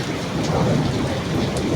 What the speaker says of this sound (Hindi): और ये गरज चमक